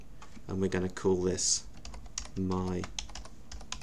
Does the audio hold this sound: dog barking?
no